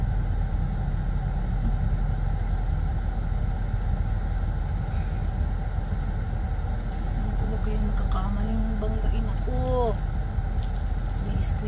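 Cars idling and creeping in congested street traffic, a steady low rumble of engines with a few brief squeaky tones near the end, while people talk over it.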